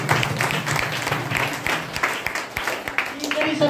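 A brief burst of audience clapping at a talk, moderately loud with uneven individual claps standing out, fading and returning over a few seconds.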